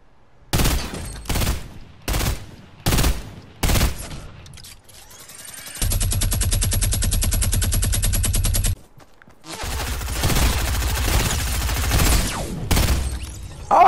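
Gunfire in the video game Fortnite: several short loud bursts of shots in quick succession, then two long sustained automatic volleys, close and harsh, with no talk.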